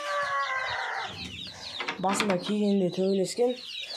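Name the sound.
rooster and hens clucking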